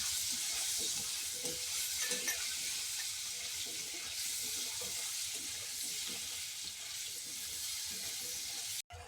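Quiet stirring of okra and potato curry with turmeric in a pan, a soft continuous sizzle with faint scraping strokes, steady and low throughout, cut off abruptly at the end.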